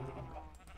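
A sheep bleats in a buffalo survival video game: one short, wavering call heard close over a busy game background.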